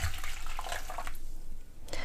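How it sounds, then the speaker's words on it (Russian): Steady broadband rush of water pouring into a pot, continuous and fairly close, with a brief pause near the end before the flow resumes. "Добавляю я всю остальную воду."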